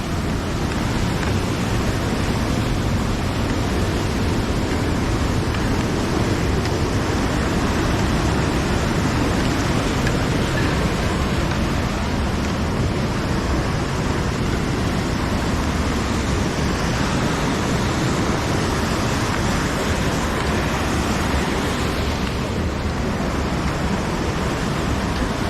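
Waterfalls along the Big Pine Creek trail roar as a steady, broad rushing wash, loud and unbroken throughout, with no voices.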